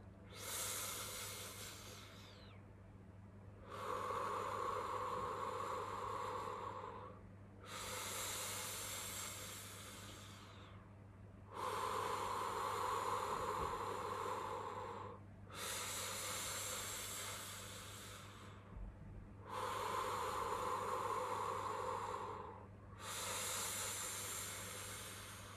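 Slow deep breaths drawn in and pushed out through the nose during a guided breathing exercise, long airy hissing cycles of several seconds each, close and steady over a low constant hum.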